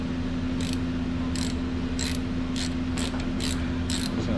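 A ratchet tightens a bolt on a Cutlass engine's oil pump, giving about seven short, close bursts of rapid clicking over a steady low mechanical hum.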